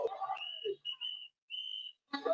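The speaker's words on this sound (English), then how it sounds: "The whistles are a new community tactic to alert people that ICE agents are in the area" Community whistles blown by locals to warn that ICE agents are nearby, heard as sustained high single-pitch blasts, three to four in a row with short gaps, after brief crowd chatter and before voices resume.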